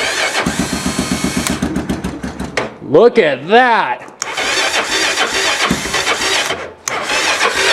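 An engine with a previously frozen battery cranks with rapid rhythmic churning, catches, and revs up before settling into a steady running sound, with a brief spoken remark over it.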